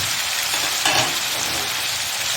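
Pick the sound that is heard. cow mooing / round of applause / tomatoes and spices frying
tomatoes and spices frying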